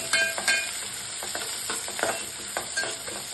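Curry leaves and green chillies sizzle in hot oil in a pan while avalakki (poha) is being made, giving a steady frying hiss broken by several sharp crackles and pops, heard up close with no talk.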